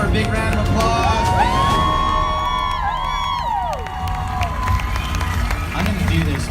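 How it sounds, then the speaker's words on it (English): A crowd at a Disney Avengers-themed half marathon cheers and whoops loudly and continuously, with shouts and high-pitched cries rising above dense crowd noise and scattered clapping. "Everyone give her a big round of applause"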